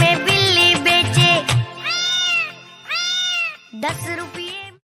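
A cat meows several times, with two long drawn-out meows in the middle between shorter, choppier cries, close and clear.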